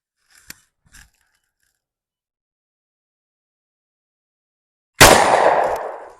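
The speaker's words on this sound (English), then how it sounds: "I'm going to shoot it hopefully before it reaches the peak of the trees." A single loud shotgun blast at a rising clay target, preceded by a couple of faint clicks and followed by a long decaying echo.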